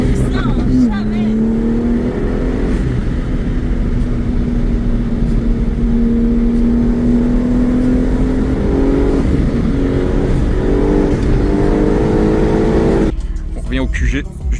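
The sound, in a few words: BMW M4 CSL engine revving while drifting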